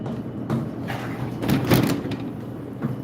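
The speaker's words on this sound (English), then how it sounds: "Prying the door open." An elevator door in a parking garage is pried open by hand, giving a few dull sliding and scraping bursts over a low, steady mechanical hum.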